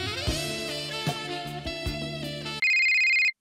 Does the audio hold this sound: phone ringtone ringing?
yes